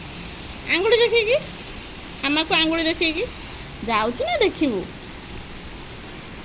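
Rain falls steadily outdoors as a constant crackling hiss beneath a voice speaking in three short bursts.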